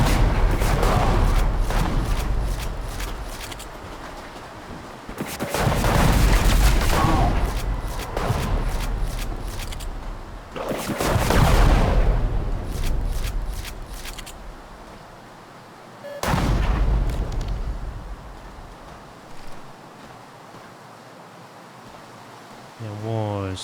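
Video game gunfire in Operation Black Horse, heard as four separate bursts of rapid shots with quieter gaps between them.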